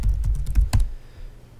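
Quick bursts of keystrokes on a computer keyboard while entering a WordPress login, several rapid taps clustered close together, then a brief pause with only low room noise.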